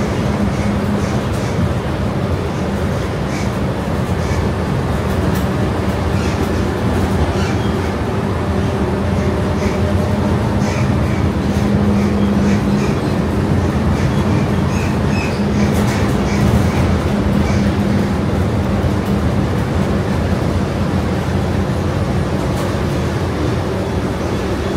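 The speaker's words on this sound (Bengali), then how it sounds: "সেন্ট্রাল মেট্রো স্টেশন, এখান থেকে সমস্ত কানেক্টিভিটি রয়েছে" A metro train moves through Central metro station, a loud continuous rumble and hum lasting throughout, heard from on board with steady rolling noise and faint background chatter.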